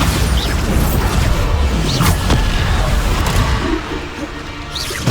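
Spell-blast explosions from the Bombarda charm in the Hogwarts Legacy game, heavy booming bursts recurring across a dense battle mix with other spell effects, loud and close throughout.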